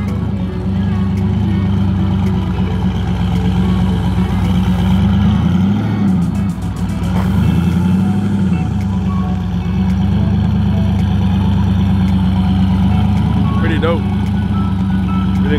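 An LS-swapped Mazda Miata at a cars and coffee gathering runs with a deep, loud V8 rumble that swells as it revs and drives past. Crowd noise and voices are heard around it.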